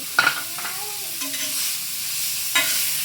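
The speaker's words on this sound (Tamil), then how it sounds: "கேரட்டு ஒரு ரெண்டு நிமிஷம் போல் வதக்கி விட்டால் போதும்" Carrots cut into long strips are sautéed for chicken sukka, with a few soft spatula scrapes and stirs over a gentle sizzle in the pan. No voices are heard.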